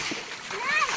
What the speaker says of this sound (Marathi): हर्षसुद्धा उपसायचं उपसायला लागला पाणी